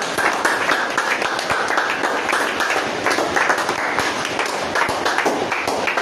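A church congregation claps together in praise of Jesus, a dense continuous wash of hands sustained at an even, fairly loud level, with a few sharper individual claps standing out.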